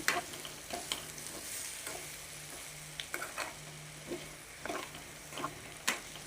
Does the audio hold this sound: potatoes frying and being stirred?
yes